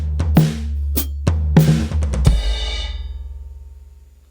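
A drum fill plays across practice pads set up as snare, rack tom and floor tom: a quick run of close, sharp thuds of varying pitch with a brief rumbling roll, then a long ringing tail that slowly fades.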